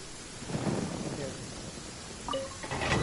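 Rain and thunder in Genshin Impact: a steady hiss of rainfall with a low rumbling roll of thunder, heard alone and fairly loud.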